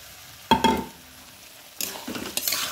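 Washed rice tipped into a pan of frying potatoes, a sharp sizzling splash followed by a quieter stretch, then a second longer burst of crackling and scraping stirring, close and with no voices.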